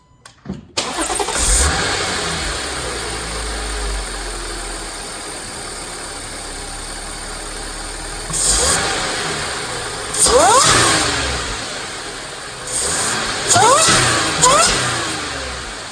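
A supercharged Audi SQ5 engine with a CTS Turbo intake starts and idles, then revs sharply several times in short bursts with a rising whine, loud and close.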